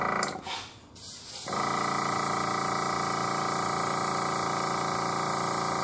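After a brief rustle and a short burst, a steady loud hiss of an airbrush spraying onto cloth runs continuously, close and unbroken.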